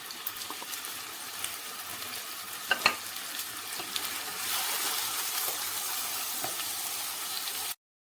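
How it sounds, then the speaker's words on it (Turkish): Chicken pieces sizzle and crackle steadily as they sauté in hot oil for bulgur pilaf, with a few sharper pops and some stirring noise close by. "Isınan yağımıza tavuk etlerimizi atarak kavuralım."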